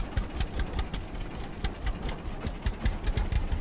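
A tractor engine in the farming game Farmer's Dynasty chugs with a rapid, even, rhythmic beat, a close and steady mechanical rattle with nothing else over it.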